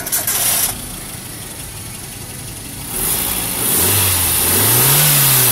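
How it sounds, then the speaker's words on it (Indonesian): A Nissan Terrano SUV engine cranks, catches and starts, then idles before revving up with rising pitch, loud and close. "Suara mesinnya kayak apa? Yuk kita coba untuk di startup dulu."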